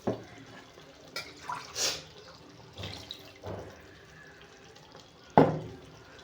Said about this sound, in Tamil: நம்ம தேவை இருக்கிற அளவுக்கு இப்போ தண்ணி ஊற்றிக்கலாங்க.